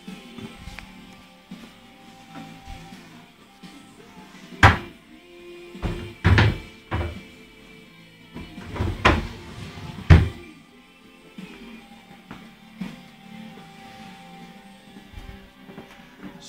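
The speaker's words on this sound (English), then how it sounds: "Solid box drawers." Solid box drawers of cream built-in wardrobes being opened and closed, a few loud wooden thunks and slides spaced out over a quiet room with faint handling noises between.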